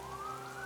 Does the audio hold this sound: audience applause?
no